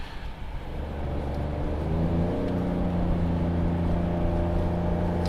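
Ford Edge Sport EcoBoost AWD (2015–2018) with an MRT Eco-Flow axle-back exhaust, accelerating and climbing through the revs with a steady, rising drone heard close from inside the cabin, alone.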